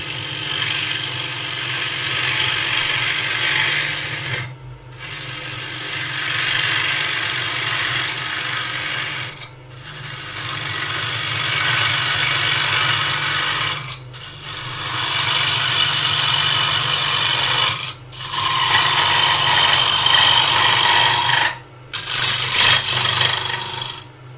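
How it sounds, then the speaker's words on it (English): A tool cutting away waste wood in a workshop while shaping a replica ancient artifact: loud, steady buzzing bursts of several seconds each, broken by short pauses, close and alone with no talk. "all I've done there is removed a bit of waste wood."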